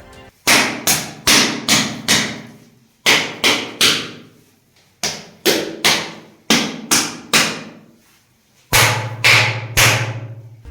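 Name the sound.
tapping stone vessels giving metallic ring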